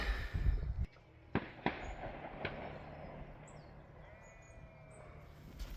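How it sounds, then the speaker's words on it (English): A few sharp, distant bangs of clay pigeon shooting ring out with irregular gaps, echoing faintly across open countryside on the Peak District border with soft background ambience. "those with the strongest ears amongst you will have possibly heard already that I am walking towards gunfire"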